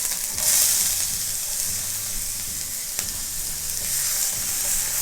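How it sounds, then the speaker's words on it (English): Diced onions hit hot oil in a pan for a meat sauce, giving a loud, steady hiss of sizzling that runs throughout with a sharper burst near the start and faint scraping of stirring underneath. "We are also going to add our diced onions."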